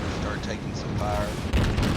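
Naval gunfire in the game World of Warships during a tier 6 IJN cruiser Aoba battle, rumbling booms and battle noise continuing throughout with a heavier hit near the end, with speech mixed in.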